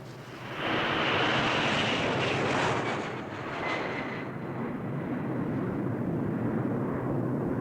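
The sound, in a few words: airplane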